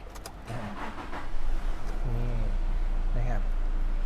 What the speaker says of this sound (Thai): ลองสตาร์ทเครื่องให้ดูนะครับ